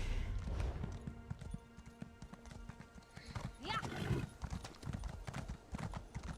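A horse named Sweet Roll trots through Elder Scrolls Online, its hooves clip-clopping steadily throughout, with a short neigh midway and a voice talking over the ride.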